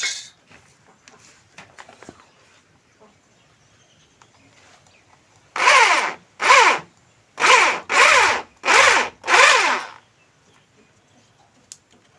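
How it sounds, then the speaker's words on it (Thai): A power drill bores a hole through a door to fit a doorknob latch. It gives five loud, close whirring bursts in quick succession, with near silence before and no talking. "ไปเจาะด้านนอกกันเลยครับ"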